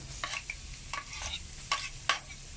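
Garlic sautéing in clean hot oil for Batangas lomi, a steady light sizzle broken by several quick stirring scrapes of a utensil against the pan, with no voices.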